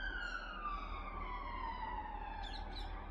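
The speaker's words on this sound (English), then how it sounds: "Again, with the siren here." A wailing siren sweeps slowly downward in pitch and carries steadily in the background through the whole stretch, with no voices over it.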